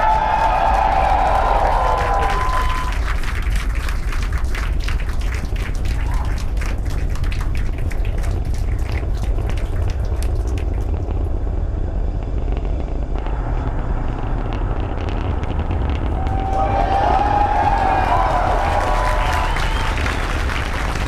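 A SpaceX Falcon Heavy rocket roaring during launch, a dense, continuous, crackling rumble that holds steady and loud throughout, with tonal whines rising at the start and end.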